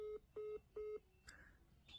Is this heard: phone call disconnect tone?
yes